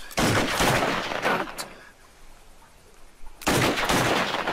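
Loud bursts of rapid automatic gunfire in the video game Mafia 3: one burst lasting about a second and a half, a quieter lull, then another sustained volley.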